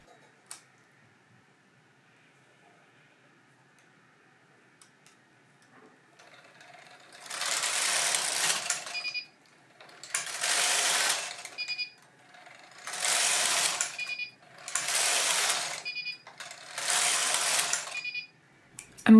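A knitting machine works a two-colour mitten pattern using a main colour plus two contrast yarns. After a quiet start come five loud, evenly spaced swishing carriage passes, each a rushing rattle with brief pauses between.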